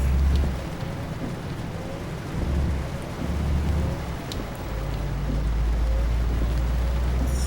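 Steady rain falls in the trucking game Euro Truck Simulator 2, a continuous broadband wash with low rumbling underneath, holding at an even level throughout with no voices.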